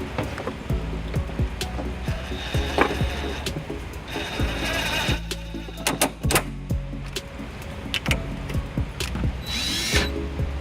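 A socket wrench fitted with a 14mm socket works loose cargo anchor bolts on a 2007 Toyota RAV4, giving close, busy ratcheting clicks and metallic clatter that go on throughout with no talking.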